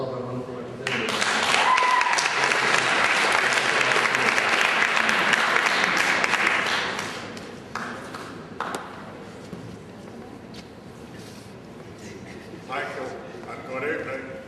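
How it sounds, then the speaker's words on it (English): A forum audience claps loudly and steadily for the representatives at an evening political speakers' event, a dense burst of applause that tapers off into quieter room noise and scattered sounds. "can we have a hand of applause for all of our wonderful representatives?"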